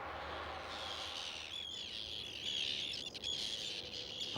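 Birds calling and chirping over a steady low rumble at an industrial port on Teesside, several high calls sliding and overlapping, fairly faint against the constant background drone.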